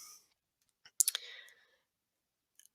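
A mouse click on a schedule button during computer work, a couple of quick, close clicks in near silence with a faint tap afterward.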